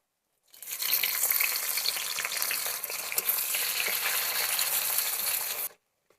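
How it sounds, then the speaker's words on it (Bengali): Chopped onions frying in oil with dried red chillies and bay leaves as the tempering for a fish and vegetable dish, a steady, close, loud sizzle with stirring scrapes that starts abruptly, holds evenly for about five seconds, then cuts off. "পেঁয়াজ আমার ভাজা হয়ে গেছে"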